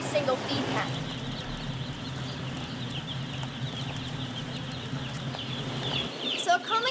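Chickens clucking and murmuring inside a poultry barn with automatic feed augers, a steady flock chatter under a constant low hum of barn machinery, with a person talking throughout.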